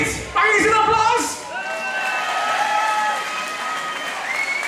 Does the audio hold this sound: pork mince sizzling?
no